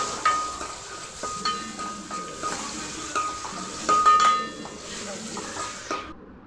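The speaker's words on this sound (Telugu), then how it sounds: "ఆయిల్ వేసుకొని ఒక బగారాకు, ఒక ఆనియన్, పచ్చిమిరపకాయలు ఫ్రై చేసుకోవాలి మంచిగా" Bay leaf, onion and green chillies frying in oil in a pot, with a steady sizzle broken by repeated clinks and scrapes of a stirring spoon, ending abruptly.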